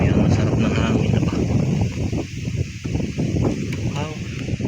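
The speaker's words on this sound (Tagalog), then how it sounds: "hangin po yan, ang lamig din eh ba." Outdoor wind gusts across a microphone during a chili pepper harvest, a loud, continuous rumbling roar with fluctuating buffeting that never lets up.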